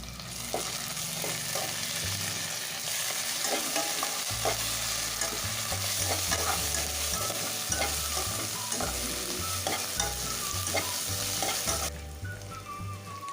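Onion frying with ginger garlic paste in a pan, a continuous loud sizzle with frequent spatula scrapes and clinks throughout, nearby and without talk, before the frying quiets near the end.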